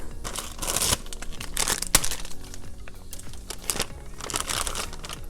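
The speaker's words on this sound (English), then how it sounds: "So you just wanna grab the bag, cut it open, use a scissors or a knife." A plastic bag of Liberian palava sauce made from jute leaves is cut open with scissors or a knife, giving close, steady crinkling and crackling of plastic with sharper crunchy bursts.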